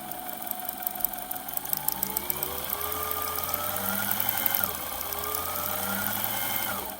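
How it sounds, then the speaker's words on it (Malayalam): A sewing machine top-stitches over the flipped-over neck piece of a dress, running in a steady continuous hum with a slight shift in pitch partway through, close and alone without talk. "ആ പീസിനെ നമ്മൾ മലർത്തി വെച്ചിട്ട് അതിന്മേൽ കൂടെ ഒരു സ്റ്റിച്ച് പതിച്ചടിച്ച് കൊടുക്കണം"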